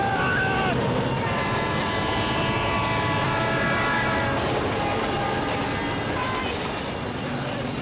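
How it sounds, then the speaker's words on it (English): A loud, continuous rumble of a train passing close by, with rattling wagons and a faint horn-like tone, steady throughout. "When the train went by"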